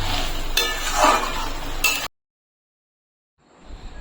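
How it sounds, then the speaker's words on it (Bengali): Pumpkin curry stirred in a pan after a little ghee goes in, with spoon scrapes and soft clinks over a light sizzle, then an abrupt silence before a faint rustle returns. "ঘিটা দিয়ে ভালো করে মিশিয়ে আমি নামিয়ে নেবো"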